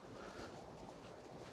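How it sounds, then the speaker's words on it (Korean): Sea waves wash continuously along a coastal walking trail on Korea's southeastern seaboard, with wind buffeting the microphone into a steady, dense roar and no voices. "왼쪽에는 파도 소리가 크게 들리고"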